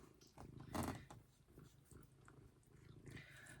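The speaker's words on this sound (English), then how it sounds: "Oh, he's purring so loud." Bagheera, a pet cat, purrs loudly and close up with a soft rhythmic rumble, swelling once near the start and then continuing steadily at a low level.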